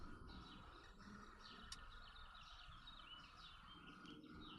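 Small birds chirp repeatedly in short bright bursts, faint and somewhat distant, over a steady background hiss with a low murmur beneath.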